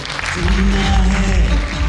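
An audience in a town hall in Gandhinagar applauds at a motivational business speech, a dense loud wash of clapping that holds steady, with a voice over the top.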